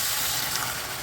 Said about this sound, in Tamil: இந்த பருப்பு தண்ணியை ஊற்றிடலாம்